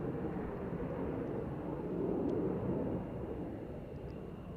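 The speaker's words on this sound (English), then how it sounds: "And it is Alaska 737 MAX 9." An Alaska Airlines Boeing 737 MAX 9 arrives at Tucson International Airport, its steady jet roar held at a moderate, distant level and swelling slightly midway before easing off.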